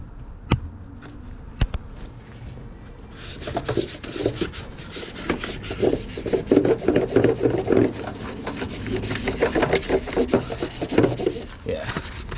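Hand sanding on the engine bay of a Nissan 350Z. A few sharp knocks come first, then a continuous rhythmic rasping of sandpaper scrubbing metal, close and fairly loud, with strokes varying in pace.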